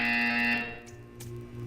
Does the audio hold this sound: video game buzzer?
yes